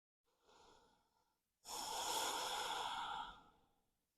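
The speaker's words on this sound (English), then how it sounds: "Slow breathing." Slow, deep breath during a yoga flow practice: a faint short inhale, then one long, steady breath held for nearly two seconds, close and alone in a quiet room.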